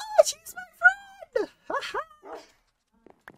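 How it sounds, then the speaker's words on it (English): Short, high, wavering whimpers and whines of a dog in a multiplayer survival video game come in several close bursts, then fade to faint blips near the end. "Dog."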